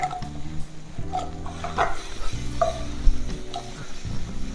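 Chicken bites shallow frying in a pan with salt and lemon juice added, a steady sizzle under repeated scraping and stirring strokes, with occasional clinks of the utensil against the pan and no voices.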